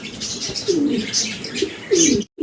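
Pigeons coo softly and repeatedly nearby, with a few light chirps mixed in, then a brief cutoff at the end.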